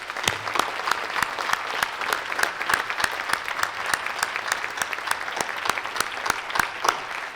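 Award ceremony attendees at a summit clap in a sustained, even round of applause, a continuous crackle of many hands at moderate loudness with no talk over it.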